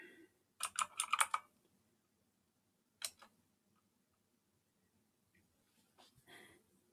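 Bursts of typing on a computer keyboard as a Linux command is entered, a quick cluster of clicky keystrokes, then a single press and a few scattered taps, close up in an otherwise quiet room.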